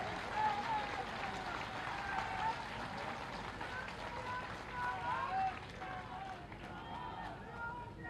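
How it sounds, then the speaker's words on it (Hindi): A large crowd at a Gwalior political rally for Chief Minister Shivraj and Scindia sends up a continuous roar of clapping and crowd noise, loud and unbroken throughout. "तालियों की गड़गड़ाहट से स्वागत किया जाए।"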